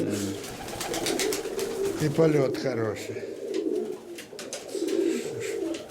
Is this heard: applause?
no